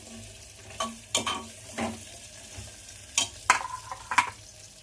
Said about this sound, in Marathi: मग टाकायचा बटाटा बटाटा थोडासा असा परतून घ्यायचा